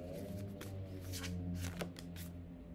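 Tarot cards are shuffled by hand during a reading, giving a steady run of close, crisp riffling and flicking bursts with no talk over them.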